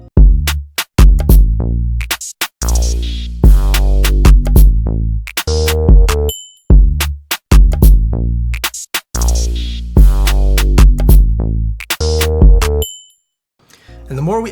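UK drill beat with layered bass synths and drums, punchy kicks and crisp hi-hats over sliding bass notes in a bouncy, syncopated rhythm with brief dropouts, loud and close.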